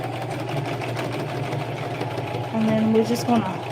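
Sewing machine stitching in the ditch along the seams of a Christmas stocking, a continuous low motor hum and needle chatter heard under someone talking.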